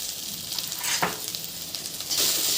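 Okra (bhindi) with turmeric and salt sizzles in an open, uncovered pan, a steady hiss of frying with a few brief stirring scrapes.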